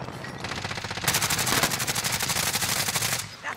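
Rapid automatic gunfire from a Call of Duty Cold War Warzone match, a dense, sustained burst of shots rattling off close and loud for several seconds before cutting off.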